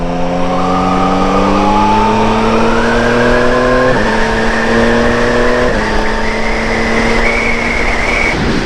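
Yamaha MT-09 SP motorcycle pulling hard in third gear, a loud, close engine note climbing steadily in pitch with a brief dip at each shift point as it keeps accelerating.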